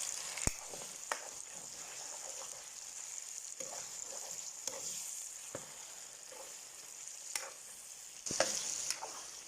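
Ginger garlic paste frying with chicken for Hyderabadi masala chicken, a close, constant sizzle with sharp scraping and stirring clicks breaking through at irregular moments.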